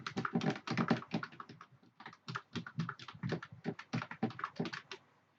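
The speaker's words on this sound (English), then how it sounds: "Let me type it in." Fast, close typing on a computer keyboard while entering C++ code, a dense run of crisp key clicks in irregular bursts with short pauses between words, no talking over it.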